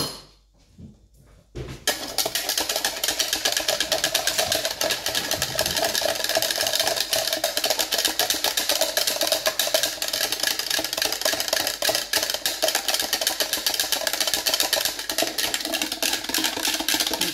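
A whisk beating a mixture with agar-agar for a panna cotta mirror glaze, a fast, steady whirring rattle against the bowl that starts after a brief quiet moment and runs on loud and close.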